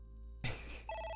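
A telephone rings in the AI: The Somnium Files video game, in a diner: a single short electronic ring tone that sounds alone after a brief burst of noise.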